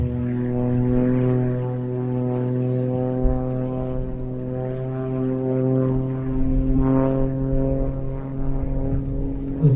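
An aerobatic display plane performing at an air show at RAF Mildenhall, its propeller engine droning loudly and steadily with a strong tonal hum that swells and fades slightly as it manoeuvres.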